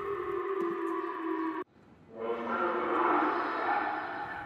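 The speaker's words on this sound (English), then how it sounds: "sirens bringing Tokyo to a standstill" Missile alert sirens sounding across Tokyo during a North Korean ballistic missile test, a sustained wailing tone that cuts off abruptly, then swells again in a distant, echoing rise without any voices.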